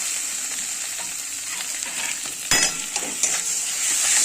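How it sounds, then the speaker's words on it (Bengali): Green chilli, dried chilli, cumin and ginger spice paste fries in a pan, a bright steady hiss joined by metal spoon clinks and scrapes as it is stirred. "কাঁচা লঙ্কা শুকনো লঙ্কা জিরে আদা মেশানো মশলাটা দিয়ে এবার আমি ভালো করে কষে নেব"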